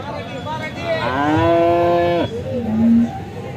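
An HF (Holstein Friesian) heifer moos at a cattle market in Alephata, one loud drawn-out call close by, followed by a shorter lower lowing sound, with no talk over it.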